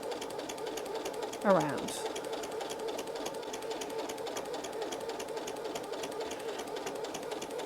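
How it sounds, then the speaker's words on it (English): A sewing machine with a walking foot stitches slowly, giving a continuous rapid mechanical chatter throughout, with a brief squeaky sweep near the start and a faint voice under the hum. "I can just lift up the foot with the needle down and continue sewing"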